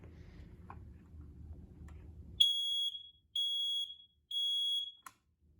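Kidde Fire Sentry smoke alarms power on: after a low rumbling hum, three loud, piercing electronic beeps sound in a regular pattern, each about half a second to a second long, followed by a short click.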